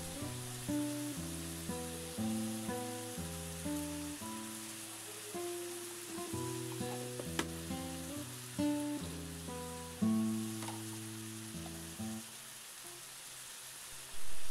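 Onions fry in a pan with a steady, soft sizzle that runs throughout, partly masked by sustained tonal music playing over it.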